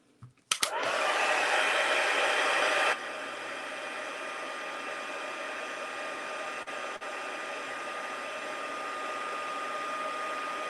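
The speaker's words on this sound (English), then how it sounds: "Your heat embossing, you want to make sure your heat tool is heated before you start moving it" Heat embossing tool switched on with a click, then a loud, steady close-up blowing whir as it melts embossing powder on a stamped card, the airflow tone shifting slightly after a few seconds.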